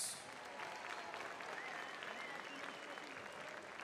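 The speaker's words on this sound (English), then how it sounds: "round of applause for these Muay Thai for Life warriors." At a Muay Thai for Life charity fight night against cancer, a crowd applauds the fighters. The faint, distant clapping holds steady throughout.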